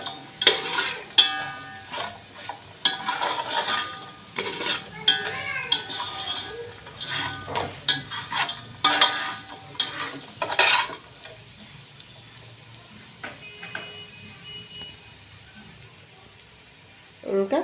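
Chicken with carrot, onion and green chillies stirred in a pan, with metal utensil clatter and scraping in irregular bursts over a faint sizzle, close by, quieting toward the end.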